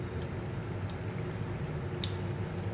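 Spoonfuls of bitter gourd pakoda batter dropped one by one into a pan of hot oil on a gas stove, giving a steady, close crackling sizzle with soft bubbling and no talk.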